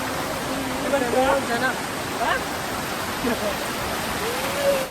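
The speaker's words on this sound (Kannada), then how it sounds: "ಮುಂದ್ಗಡೆ ಅಲ್ಲಿ ನೀರು ಬೀಳ್ತಾ ಇದೆಯಲ್ವಾ ಅಲ್ಲಿ ಒಂದು ಸ್ವಲ್ಪ ಹೈಟಿಂದ ಕೆಳಗಡೆ ಬೀಳುತ್ತೆ ಅದಕ್ಕೆ ನಿಪ್ಲಿ ಪಾಸ್ ಅಂತ ಕರೀತಾರೆ" Nipli Falls, a small dam-fed waterfall dropping from a modest height, gives a constant broadband rush nearby, while people talk and voices rise over it at intervals.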